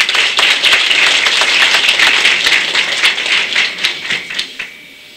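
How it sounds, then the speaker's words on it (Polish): A crowd at a village Shrovetide carnival gathering applauds the volunteer firefighters, a bright burst of clapping with sharper individual claps near the close before it fades out. "Wielkie brawa dla strażaków"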